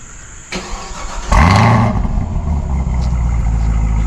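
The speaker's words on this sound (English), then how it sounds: "Now with the automatic, you do have remote start. So let's take a listen." A 2024 Chevrolet Camaro ZL1 engine, started by remote, cranks and fires up with a sharp rising roar, then settles into a loud, steady idle close by.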